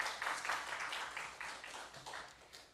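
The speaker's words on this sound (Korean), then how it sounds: "하나님께 영광의 박수 돌리겠습니다." Sustained applause from a church congregation during a Sunday service, steady clapping that gradually fades, heard from a distance at moderate volume.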